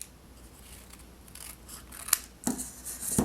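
Sharp scissors snip and trim around a paper flower from a craft kit, a few crisp close cuts breaking through a quiet room, the last ones coming in quicker rustling bursts.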